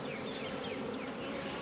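Honey bees buzzing around an open hive during a spring inspection, a dense close swarm hum with individual bees droning past, steady and fairly loud.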